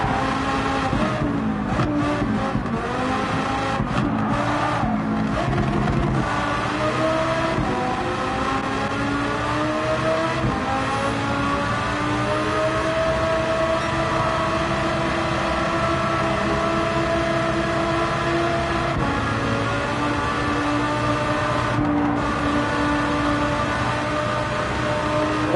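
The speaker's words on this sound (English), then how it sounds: "Listen to that engine on that car." Race car engines in Gran Turismo 7 on the Nürburgring Nordschleife, a loud, steady roar with rising and falling pitch as the cars accelerate, with no talk.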